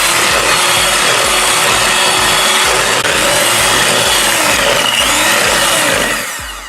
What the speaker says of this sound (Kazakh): Яғни жақсылап тұрып 2 минут миксермен араластырамыз